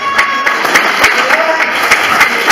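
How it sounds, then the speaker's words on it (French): Crowd applause rings out at a women's boxing match just before the first round, steady clapping under a voice over the ring. "Allez, applaudissez cette fois."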